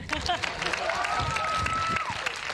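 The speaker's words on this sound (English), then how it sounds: "You can keep clapping." Audience applause and cheering at a Riot Games showcase at PAX East 2026, a dense sustained clatter of clapping from a large crowd with scattered whoops and voices mixed in throughout.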